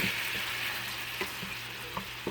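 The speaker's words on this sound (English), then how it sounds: "As you can see, shrimp starts cooking." Shrimp cooking in whiskey in a stainless steel pan makes a steady hiss of frying, with a few soft clinks or taps scattered through.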